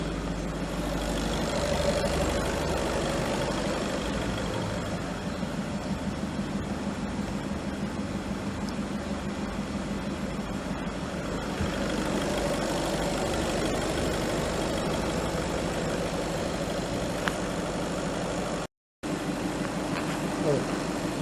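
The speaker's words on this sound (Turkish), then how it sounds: "Şu an aracımız çalışıyor" A 2015 Volkswagen Passat idles steadily with its air conditioning running after an AC gas refill, a continuous low engine drone with a faint whine, heard close for the full stretch with one brief dropout.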